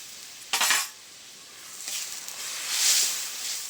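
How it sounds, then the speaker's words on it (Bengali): Chickpea dal being stirred in a pan with fried coconut and chopped coriander: a sharp metal spoon scrape against the pan, then softer swishing strokes through the thick mixture, quiet and close. "নেড়ে চেড়ে নিচ্ছি"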